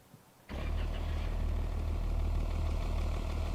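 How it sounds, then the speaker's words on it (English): A vehicle engine starts in Offroad Mechanic Simulator, the game's engine catching abruptly after a short quiet moment and then settling into a steady, loud low idle rumble that holds to the end. "Triangle to start the engine."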